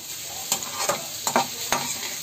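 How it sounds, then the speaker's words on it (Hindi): Vermicelli roasts with sugar in a pan, a soft steady sizzle broken by regular scraping strokes of a spoon stirring, close up with no voices. "बस इसको इस तरह से भूनना है जैसे ये भूनने लगेगा"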